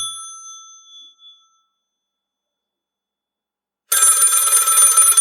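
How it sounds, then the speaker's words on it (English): A bell chime rings out and fades, followed by silence, then a bright, electronic telephone ring starts loudly and continues. "she jumped up when the phone rang."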